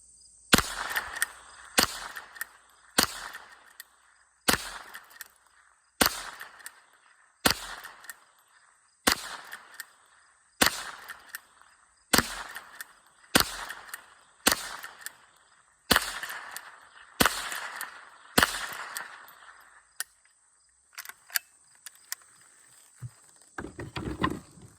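Repeated .22 rifle shots from a Henry Golden Boy lever-action, about sixteen sharp cracks spaced roughly a second and a half apart, loud and close, followed by a few lighter clicks and knocks at the end.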